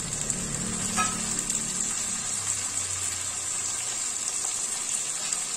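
Chopped tomato dropped onto frying onions in a pan, bringing a busy sizzle with stirring scrapes, loud at first and then settling into a quieter steady fry.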